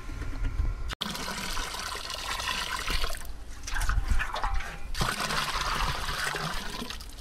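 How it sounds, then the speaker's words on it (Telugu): Five litres of cow urine poured into a drum holding a hundred litres of water: a steady, close gushing pour runs almost continuously, dipping briefly midway before resuming just as strongly. "ఇప్పుడు మనం తీసుకున్న 5 లీటర్ల ఆవు మూత్రం దీంట్లో పోయండి"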